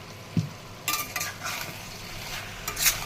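A spoon stirs kakrol and potato curry in a pan, giving faint scraping strokes and a few soft clinks over a low sizzle, close by and with no talking.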